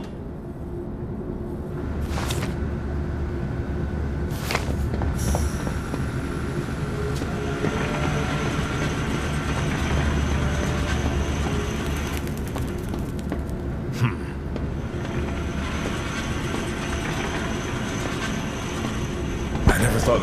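A train rolling on rails in the game Zoochosis, giving a continuous low rumble and rattle that holds steady throughout, broken by a few sharp clanks, with voices speaking over it.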